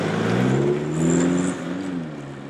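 An old 4WD Toyota 40 Series or Land Rover Defender drives along an old drift road, its engine droning steadily and close with a slight rise and fall in pitch. No one speaks.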